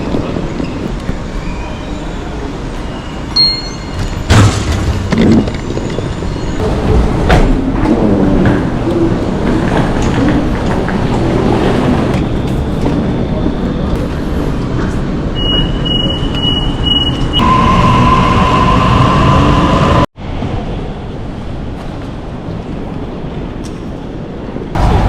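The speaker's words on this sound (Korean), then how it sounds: "기차 타고 시티로 가려고 합니다" A train carries passengers from the airport into Sydney city, its steady loud rolling rumble filling the ride, with brief high beeping tones near the middle and a sudden drop in noise toward the end.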